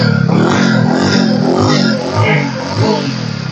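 A used motorcycle's engine revs loudly and close at a budget bike dealer, holding a raised, rough drone before easing back slightly, with a voice faintly under it.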